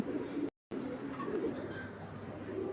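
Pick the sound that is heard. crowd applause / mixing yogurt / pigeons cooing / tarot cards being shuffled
pigeons cooing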